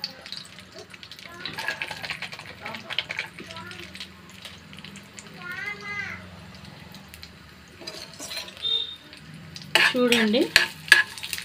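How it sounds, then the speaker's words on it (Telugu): Cashews and raisins sizzle in melted ghee in a pan, a soft crackle with scraping stirs, while someone talks over it and a cat meows in the background. "నేనైతే జీడిపప్పుని, కిస్మిస్ని వేయించుకుంటున్నాను."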